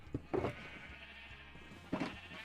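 Two short sheep bleats in Minecraft, faint and spaced about a second and a half apart, over a quiet background hum with no talking.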